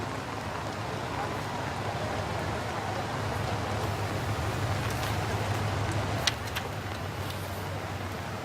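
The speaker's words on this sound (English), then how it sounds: "The rain is pouring on" Heavy rain pours steadily on a crowd lining the street for a state funeral procession in Singapore, a continuous dense hiss with a low vehicle rumble beneath and voices faintly mixed in.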